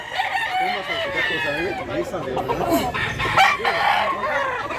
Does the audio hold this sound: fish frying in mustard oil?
no